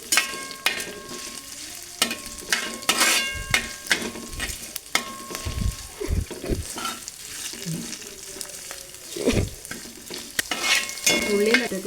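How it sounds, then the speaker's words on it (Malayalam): Carrots and vegetables fry for rava kichadi while a spoon stirs them, with repeated scraping strokes and clinks over a steady sizzle that stays close and fairly loud throughout, without any talk. "ക്യാരറ്റ്, എല്ലാം കൂടി നന്നായി ഇളക്കുക."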